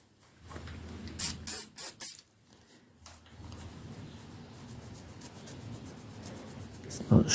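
Brake cleaner sprayed from an aerosol can onto the camshaft area of a 2003 Ducati 749S engine, with a few short hissing bursts near the start followed by quieter rubbing and scratching as a pen marks the parts.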